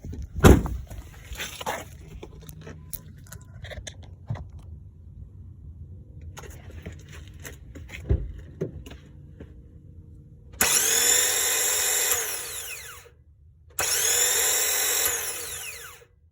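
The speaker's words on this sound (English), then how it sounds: "the starter kept cranking even though it successfully started the car, but it kept cranking and cranking and grinding and grinding" Starter on a 2005 Jeep Liberty fitted with a remanufactured starter, heard in several cranking attempts: a sharp start, then long bursts of harsh high-pitched grinding and whirring from the starter as it keeps spinning.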